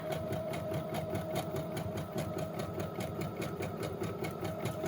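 A sewing machine stitches through a page of a Christmas traveler's notebook, its needle hammering in a steady fast rhythm for the whole stretch, close and continuous with a faint motor hum beneath.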